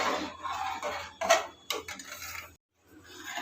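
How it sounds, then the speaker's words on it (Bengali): A ladle stirs Gobindobhog rice in milk in a metal pot, scraping and clinking in uneven strokes with a few sharper knocks and a short silent gap near the end. "চালটা দেওয়ার সঙ্গে সঙ্গেই হাতা দিয়ে অনর্গল নাড়াতে হবে"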